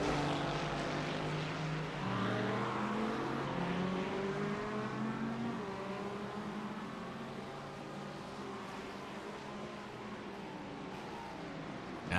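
Lamborghini and Porsche race cars in iRacing at Okayama, engines droning loud and close with rising and falling revs through gear changes, a steady layered whine throughout.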